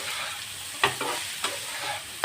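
Cauliflower pieces that were boiled beforehand are stirred into a frying pan with a steady sizzle, while a utensil scrapes through them in four sharp strokes spaced roughly half a second apart.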